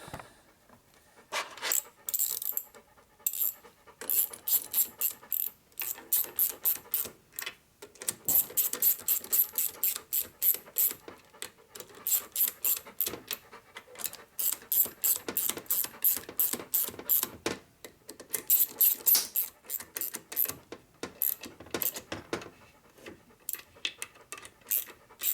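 A hand ratchet tightens fittings on a 1957 Harley-Davidson Panhead drag bike, sounding as repeated bursts of rapid, crisp clicking with short pauses between strokes, close and fairly quiet.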